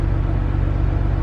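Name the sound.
2006 Acura TL car engine running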